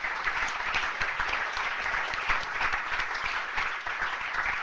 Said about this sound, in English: So please give yourselves a round of applause for doing that.